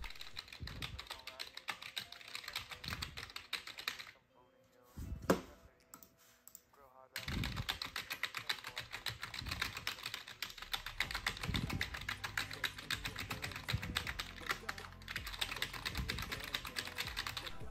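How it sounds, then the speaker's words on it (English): A quick burst of rapid typing on a computer keyboard connected to a compact GEEKOM MiniAir 11 mini PC, dense clicking keystrokes that pause briefly midway and then resume at a steady fast pace, close and clear. "see if we can spam the keyboard"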